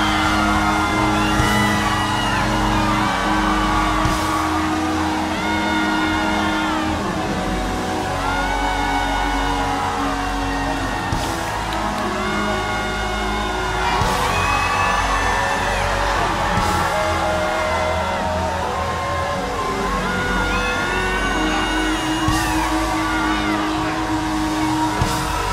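A church congregation screams and shouts together at a service, a dense, continuous roar of many overlapping voices with rising and falling whoops and yells, loud and close throughout.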